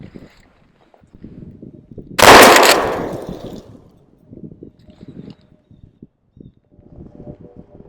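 A defensive shotgun loaded with 00 buckshot fires one loud, close blast outdoors from about 30 feet of target distance. A long fading tail follows, with quiet rustling before and after.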